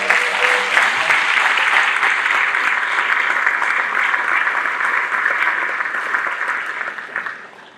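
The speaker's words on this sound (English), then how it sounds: "Let's give them a round of applause." Sustained audience applause fills the hall after a school band concert, a steady dense clapping that holds for several seconds and then tapers off toward the end.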